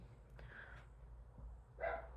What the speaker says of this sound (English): the dog is barking again.